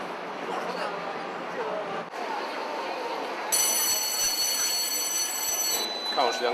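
Subway train interior noise, a steady rolling rumble with rattling and a high squealing whine partway through, voices faintly mixed in.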